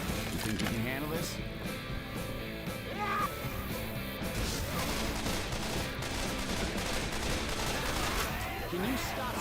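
Rapid automatic gunfire with someone being shot, dense and continuous at a steady loud level, with yelling and voices mixed through it.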